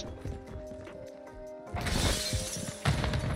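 Window glass shattering under gunfire in Call of Duty Modern Warfare II, a sharp crash and spray of breaking glass over background game noise and metallic clinks.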